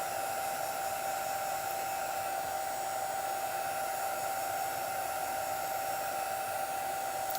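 A heat tool blows warm air to dry chalk paste shimmer, giving a constant, even whoosh with a steady motor whine that does not change and has no voices over it.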